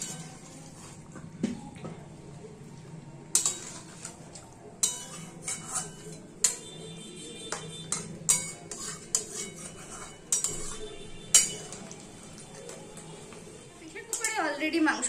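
Mutton being stirred and braised with small splashes of water in a pan, heard as steady clinks and scrapes of a utensil against metal over a low simmer, with brief stretches of talking.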